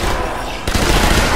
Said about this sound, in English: Headshot from distance with the old submachine gun.